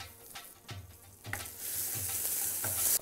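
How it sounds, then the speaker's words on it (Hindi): Finely chopped ginger and green chillies sizzle in hot oil with asafoetida, the frying growing louder and brighter over three seconds. A spoon scrapes and stirs the pan in regular strokes under the sizzle. "गर्म तेल में, और हींग जैसे भून जाए तो ये बारीक कटा हुआ अदरक ये डाल लेना है"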